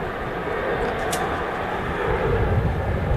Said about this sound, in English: Loads of aircraft lined up and ready to, well, enter the runway when given the clearance to